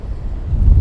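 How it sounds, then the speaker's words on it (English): Strong wind at Hjörleifshöfði on Iceland's south coast rumbles against the microphone in low, buffeting gusts that swell louder toward the end of the short stretch. "It's incredibly windy."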